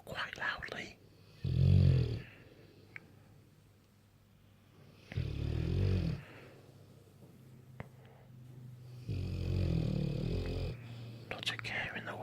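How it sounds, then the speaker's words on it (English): A Bullmastiff dog lying on a bed gives three loud, deep, drawn-out snores about four seconds apart, with quiet breathing in the gaps between them. "the Bullmastiff does snore quite loudly"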